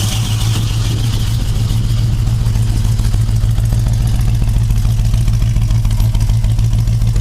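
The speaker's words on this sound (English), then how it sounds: "That's the rumble. It's got Dynomax mufflers on it." A 1972 Mercury Cougar V8 idles through Dynomax mufflers, producing a steady, loud, deep exhaust rumble that holds constant throughout with no talking over it.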